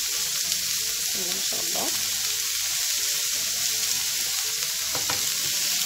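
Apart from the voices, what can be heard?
onions and meat frying in a little oil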